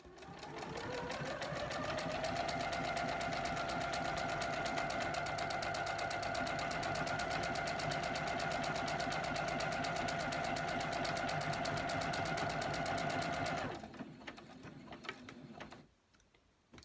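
A sewing machine stitches eyelets, or buttonholes, on a dress with a loud, rapid, steady mechanical whir and clatter running for many seconds, then stopping abruptly and leaving faint handling noise.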